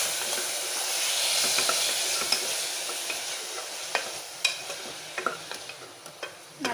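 Ground paste for a homestyle crab soup sautéing in a pan, an even hiss that slowly fades, broken by sharp ladle scrapes and taps toward the end, with no talking.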